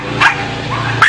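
Dogs at a puppy mill give two short, sharp barks close by, one near the start and one at the end, over a steady low hum of background noise.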